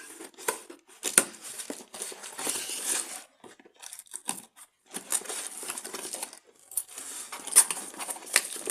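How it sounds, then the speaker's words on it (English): Cardboard product box for a Philips Stellar Bright 40 watt LED bulb being cut open, with bursts of scraping, crinkling and slicing noises separated by brief pauses, close and moderately loud with no talking. "Let me cut the box."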